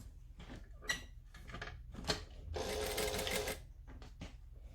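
A home sewing machine back-stitching the end of an armhole seam on floaty, stretchy fabric: short bursts of motor whir with clicks and handling noises between them, close by and moderately loud.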